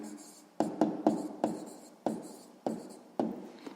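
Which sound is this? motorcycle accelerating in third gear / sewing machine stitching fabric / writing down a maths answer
writing down a maths answer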